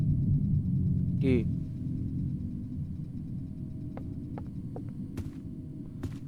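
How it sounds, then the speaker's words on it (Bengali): Steady low wind ambience in the Roblox horror game DOORS, a continuous hollow rumble with a few faint tonal blips and clicks on top. "আর ওটা বাতাসের আওয়াজ ভাই।"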